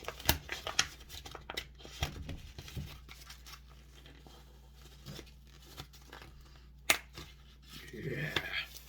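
Crinkling and tearing of packaging around a flag accessory, in short sharp bursts separated by quieter gaps, with a rustling pull near the end.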